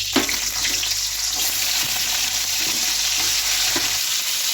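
Potatoes frying in hot oil with green chili and panch phoron: a loud, continuous hissing sizzle with faint stirring scrapes, close and unbroken throughout.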